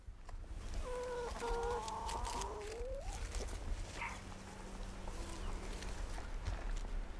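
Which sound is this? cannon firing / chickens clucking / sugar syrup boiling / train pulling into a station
chickens clucking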